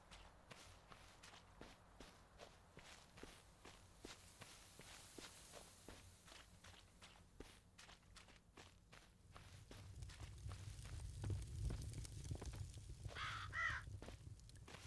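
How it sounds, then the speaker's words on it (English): Crows caw in a video game, a few harsh calls rising near the end over a steady run of in-game footsteps, all fairly quiet. "Yeah, I hear you, birds."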